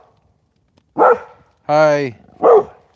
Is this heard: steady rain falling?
no